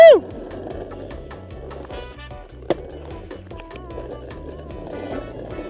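An Elwing electric dancing longboard rolls over pavement and then brakes, with a whirring motor, wheel noise and a sharp knock partway through, as a rider talks occasionally.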